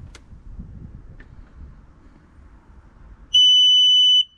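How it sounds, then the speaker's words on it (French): Electric frunk strut controller on a Tesla Model X gives a single loud, steady electronic beep near the end, after a quiet stretch of low background rumble. "le bip est un petit peu fort"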